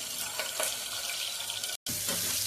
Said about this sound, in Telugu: ఆయిల్ వేడెక్కాక ఉల్లిపాయ పచ్చిమిర్చి వేసి దోరగా వేయించుకోవాలి